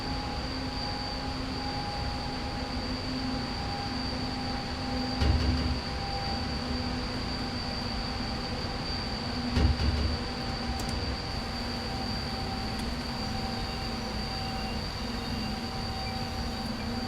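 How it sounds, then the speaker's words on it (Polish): An ET 25 Dragon electric locomotive hauling a heavy fuel train speeds downhill in the Simrail game, a constant rolling rumble with steady high whine tones and occasional wheel thumps, no talking. "To jest z górki i to dobrze z górki, widzę, że się pociąg rozpędza."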